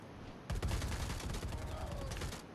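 Rapid gunfire bursts from the video game Predator: Hunting Grounds, a dense rattling fusillade that starts abruptly and continues steadily close up, with faint voices underneath.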